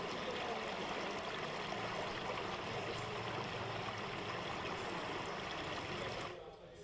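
Swollen Lakhandei river in Sitamarhi, Bihar, in flood, flowing fast with a steady, distant rushing wash that holds constant for several seconds before fading.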